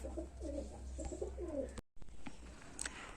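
Pigeons offered for sale coo softly at close range in repeated, rolling phrases, with a brief dropout partway and faint chirps after, no voices heard.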